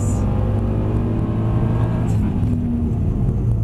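Mercedes-Benz car accelerating under throttle on a driving track, a loud, close, steady engine roar with a rising harmonic whine, alone with no talk.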